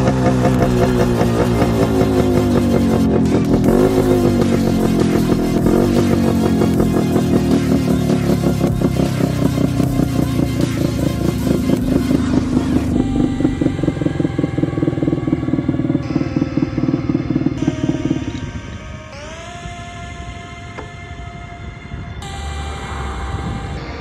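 A 1988 Yamaha RX100 two-stroke motorcycle rides at speed with a loud, steady, buzzing exhaust that rises and falls through gear changes, then drops to a quieter idle and revs near the end.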